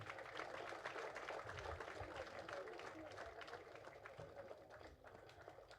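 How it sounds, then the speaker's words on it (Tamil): Audience applause at a short film competition award ceremony, a dense, fairly distant wash of clapping that holds steady and eases slightly toward the end. "நல்ல ஒரு கரகோஷம் கொடுக்கலாமா?"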